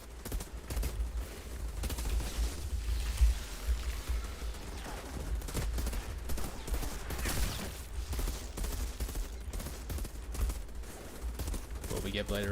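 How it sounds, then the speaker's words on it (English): Sustained gunfire in the Outriders video game, dense rapid bursts of shots and crackling impacts rolling on without a break for the whole stretch, with a voice talking underneath. "Doing some shooting."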